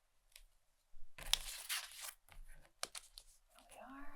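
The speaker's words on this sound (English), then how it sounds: "I'm going to go ahead and cut along the hairline." Scissors cut paper along a hairline on a cutout face, giving a close, quiet series of crisp snips and rustles with brief pauses between cuts.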